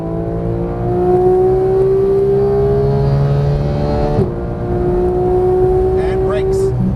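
A 475 hp Porsche 991 GT3 accelerates on a race track, its engine note climbing steadily and loud with a brief dip near the end, while a voice gives driving instructions over it.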